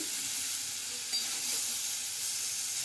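Boiled papaya and potato stir-fried with spices in a pan, producing a dense, continuous hissing sizzle with faint stirring underneath, close and steady, without speech.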